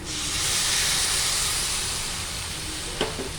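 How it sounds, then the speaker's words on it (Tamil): Tamarind water poured into a hot pan sets off a loud, broad hiss that fades slowly, and a brief metallic clink comes near the end. No one talks. "இப்போ புளி கரைசல் ஆட் பண்ணிக்கலாம்."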